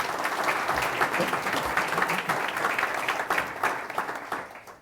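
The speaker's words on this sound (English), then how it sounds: "Can we please get a round of applause for our panelists this morning?" A morning audience at a business series panel on micro-enterprise and start-ups applauds the panelists, a dense, sustained round of many hands that stays strong before thinning out at the close.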